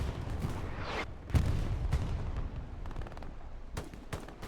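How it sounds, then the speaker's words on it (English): Artillery barrages in the World War II shooter Hell Let Loose during a competitive match: deep, rumbling booms and scattered sharp impacts, several heavy bursts spaced across a few seconds, fairly distant and with no voices over them. "Artillery is still doing very well on the Helios side."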